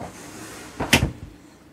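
A room-divider door between the sleeping and living areas of a 2022 Giottiline Therry 37 motorhome is moved once, giving a short, close knock-and-slide sound in an otherwise quiet interior.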